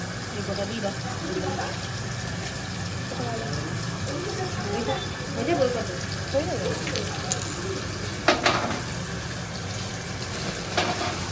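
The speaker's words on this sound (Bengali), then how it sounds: "এদিকে তো ভাজাটা চেপে গেছে" Vegetables frying in a kadai, a soft, continuous sizzle with occasional stirring clatter, heard beneath someone talking steadily through much of it.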